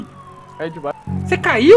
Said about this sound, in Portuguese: Tô ouvindo a sirene da polícia